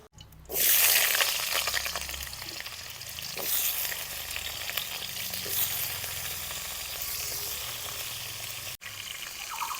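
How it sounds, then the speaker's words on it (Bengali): Potatoes hit hot mustard oil in a wok with a loud burst of sizzling that settles into a steady, close frying hiss, with occasional scraping and stirring. "কড়াই বসায় দিলাম, সরিষার তেল দিয়ে আলুটা ভালো করে ভাজে নিব।"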